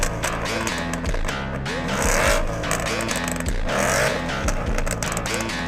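A Chevy American muscle car engine, no rev limiter, revs hard in a dense, loud rumbling growl that swells and drops in repeated surges, heard close, with a voice faintly mixed in underneath.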